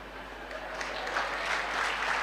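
Audience applause at a Tamil motivational speech, a soft steady wash of clapping that swells gradually toward the end, heard fairly distant and faint without speech over it.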